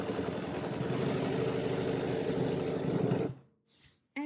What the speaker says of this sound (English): I'm going to stitch in the ditch to get ready for my next little sunbeam block